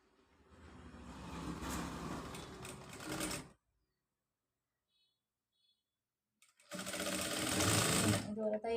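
An electric sewing machine stitching a nighty frock runs in a close, rapid mechanical chatter, stops for about three seconds of near silence, then starts again.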